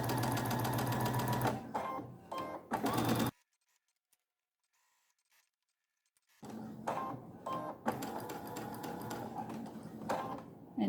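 A sewing machine stitches silky striped fabric for a pleated cravat in bursts, stopping for a few seconds of near silence before whirring steadily again, close and clear.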